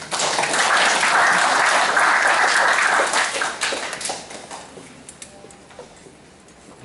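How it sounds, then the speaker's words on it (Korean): A crowd applauds the guests attending a youth volunteer-patrol event in Gumi, Korea: loud, dense clapping for about three seconds, then tapering into scattered, fading claps over a quiet room. "참석해 주신 내빈 여러분께 다시 한번 박수 부탁드리겠습니다."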